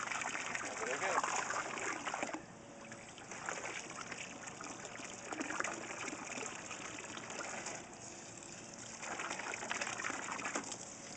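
Water gushes steadily from a garden hose into a backyard pool, a continuous close splashing rush that swells and dips, with voices talking over it and birds calling faintly in the background.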